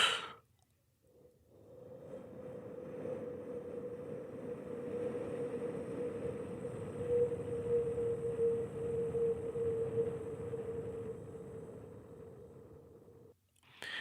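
A human voice imitates wind with a long, soft breathy whoosh that swells and holds steadily for about twelve seconds, quiet and close, with no other sounds.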